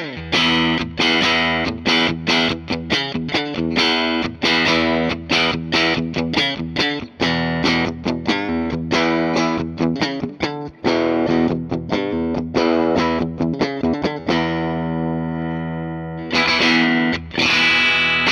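A 2007 Gibson Melody Maker single coil electric guitar is played plugged in through a distorted amp, with loud strummed chords and picked notes in a driving rhythm, then a held chord ringing out before more playing.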